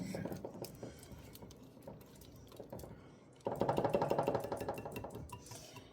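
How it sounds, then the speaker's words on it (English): Carrot cake batter being stirred in a big heavy bowl gives a fast, irregular clatter and scrape that grows louder and denser in the second half, close and without talk. "I'm giving it one more good mix"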